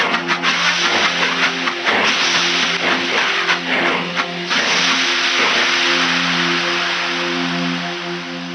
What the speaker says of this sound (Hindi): गाड़ी के रुकने की आवाज़ आप तक भी पहुँच गई होगी